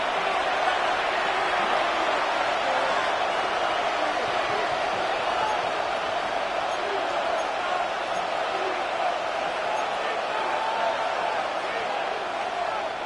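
A stadium crowd in an EA Sports football video game (Denver versus San Francisco) late in a game, a steady, dense roar that holds at an even level throughout.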